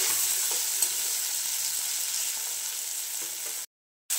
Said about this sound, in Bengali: এখানে যা মশলা আছে সব একসঙ্গে দিয়ে দেবো, দিয়ে ভালো করে একটু কষে নেব।